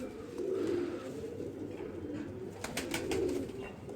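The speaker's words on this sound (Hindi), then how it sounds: "वन टेल का कबूतर है" A one-tail pigeon coos softly in low, rolling repeated phrases with steady background hiss, and a few faint clicks and rustles near the end.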